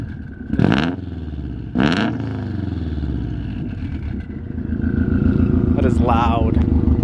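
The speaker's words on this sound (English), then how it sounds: "You want to give it a little bit of gas so we can hear how it sounds like?" Subaru WRX engine revs up twice in quick bursts, then holds a steady loud idle and climbs again near the end, with people talking over it.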